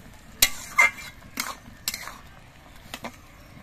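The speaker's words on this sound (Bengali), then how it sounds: "টমেটোগুলো আর একবার নেড়ে চেড়ে দিতে হবে" A spoon scrapes and clatters against a pan while stirring green tomatoes, in a few separate strokes, with soft gaps between them and no talking.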